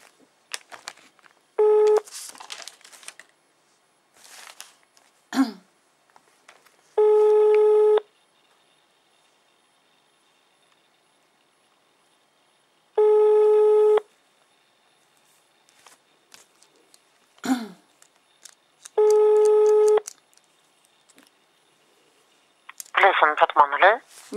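On a telephone line, ringback tones sound in several regular, spaced bursts while a call is connected to an agent, with short bits of recorded and live voice in between.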